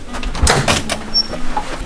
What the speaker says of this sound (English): Our room has a different door.